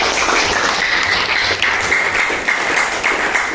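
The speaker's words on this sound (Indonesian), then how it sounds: "Kita beri tepuk tangan." A high-school classroom group claps together for classmates who just finished a role-play presentation, a steady dense patter of many hands filling the room for a few seconds.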